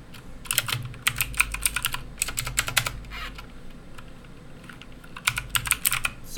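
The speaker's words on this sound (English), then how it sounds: "I know, my typing sucks." Bursts of rapid keystrokes on a computer keyboard come in uneven clusters with short pauses between, close and fairly loud, with no talking.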